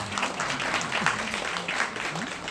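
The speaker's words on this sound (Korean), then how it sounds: "박수를 부탁드리겠습니다." Audience applause at a band club concert in Chungju Culture Hall: steady clapping from a crowd, fairly close and even throughout, with voices and faint tonal sounds mixed underneath.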